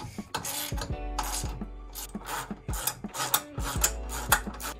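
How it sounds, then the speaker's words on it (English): Hand-tightening 13 mm nuts on caster/camber plates in a car's strut tower, giving a string of close, light metallic ratcheting clicks and scraping rubs with brief low knocks between them. "we're gonna go ahead and hand tighten all of these 13 millimeters"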